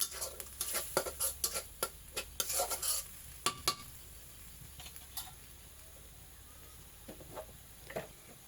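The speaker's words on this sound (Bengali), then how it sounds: "এখন দিয়ে নিচ্ছি গুঁড়ো মরিচ শুকনো এবং ভালো করে কষিয়ে নিব এভাবে" A spoon stirs spice paste of ground turmeric and dried chili powder in a pan for a taro and fish curry, scraping and clinking in irregular bursts over a faint steady sizzle, quiet and close.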